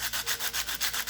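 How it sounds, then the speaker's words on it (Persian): Rhythmic hand sanding of turquoise inlay jewelry with sandpaper, about eight even abrasive strokes in quick succession, close up with no voices. "سنباده بزنید. چون که این کار داره با دست انجام میشه"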